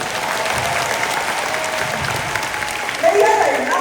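A concert audience at a 40th anniversary rock band show breaks into applause, steady clapping from a crowd that swells louder near the end, with talking over it.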